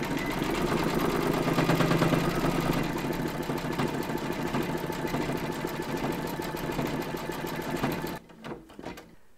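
An embroidery machine stitches one round of an appliqué beehive in beige thread, a steady, dense, rapid mechanical whir running continuously and fairly close before cutting off near the end, followed by a few faint handling clicks.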